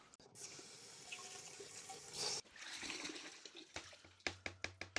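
Tap water runs and splashes while a deionization filter housing is rinsed out in a sink, a quiet continuous wash that ends in several short, rhythmic sloshing spurts.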